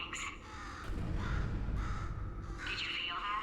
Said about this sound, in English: I hate this bird